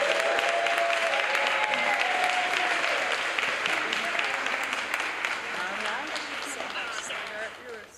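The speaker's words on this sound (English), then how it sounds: "Let's give a great round of applause to our very own Judge Patricia Martin." A seated audience at a National Council of Negro Women awards event in Chicago gives a judge a sustained, dense round of applause with a few cheers, holding steady before tapering off at the end.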